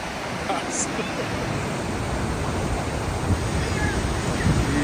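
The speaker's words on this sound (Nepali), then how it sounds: "यो 2000 साल पहिलादेखि उत्पत्ति भएको झरना हो अनि ठुलो छ" Yosemite's large waterfall in California rushes as a steady, loud, broadband roar with wind buffeting the microphone, unbroken for the whole stretch.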